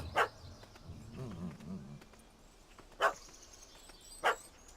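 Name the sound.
dog barking in The Witcher 3 video game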